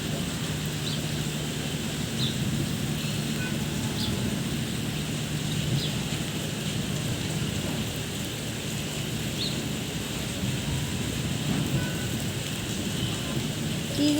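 Steady heavy rain pours down outdoors where water pools in the grass by a house, a dense even hiss throughout with faint low rumbles that may be distant thunder, and no one speaking.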